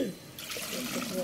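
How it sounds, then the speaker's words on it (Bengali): Water running and splashing while eggplants are washed in a rural village kitchen, a steady close trickle and pour of water, with a voice speaking over it. "আরো বেগুন গুলো ধুয়ে নিচ্ছে, ধুয়ে রাখিস"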